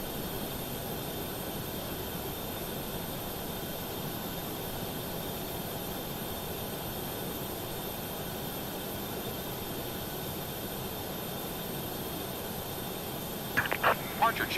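An airliner in Microsoft Flight Simulator hums steadily at the gate during pushback, a constant broad engine and cabin drone with faint high whine, and a few brief clicks near the end.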